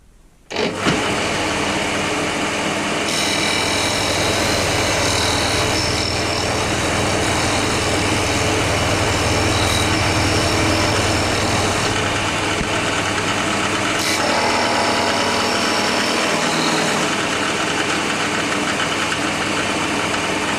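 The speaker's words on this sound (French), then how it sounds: "Maintenant je vais passer un coup à la ponceuse" Electric power sander working on wood, a loud, steady whirring grind that starts abruptly and runs continuously at close range, with slight shifts in pitch as the sanding pressure changes.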